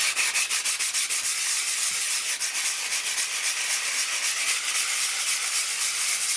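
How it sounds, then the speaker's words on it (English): Fine filler on a dry lined wall is sanded lightly by hand, a continuous close, bright scratchy rasp with a gentle back-and-forth pulse, steady throughout and free of speech. "So we just need to be really light with this because this filler is so fine and it sands really easy."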